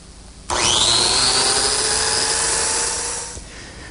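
A power tool spins up abruptly and cuts slots in wood, a loud, close, whining roar that holds for about three seconds, then winds down and stops.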